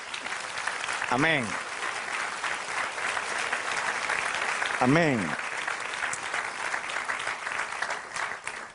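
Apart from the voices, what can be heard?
applause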